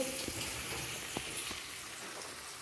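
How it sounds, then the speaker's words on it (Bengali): Tomatoes added to fried onions sizzle and fry in a pan while being stirred, a steady soft crackle with a few brief clinks of a utensil, close and fairly quiet, no talking. "এবার টমেটমটা দেবো টমেটমটাকে ভালো করে কষিয়ে নেবো"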